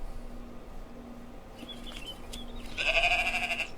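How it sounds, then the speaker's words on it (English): Sheep bleat as a played recording, a few faint thin calls giving way to a louder drawn-out bleat near the end over a low hum. "We also have other audio clips of sheep."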